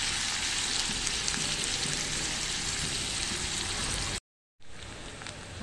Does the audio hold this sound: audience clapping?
no